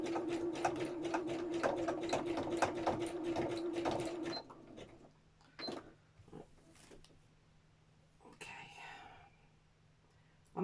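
A sewing machine runs fast and steady for about four seconds while machine-stitching a fabric seascape, then stops, leaving quiet handling and rustling.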